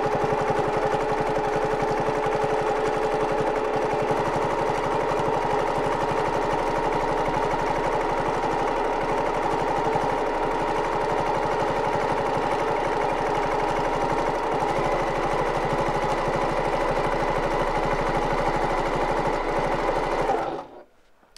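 An HQ Stitch 510 sewing machine runs a continuous free-motion quilting stitch, a steady close hum with a fast needle rhythm that holds evenly for about twenty seconds and then stops abruptly.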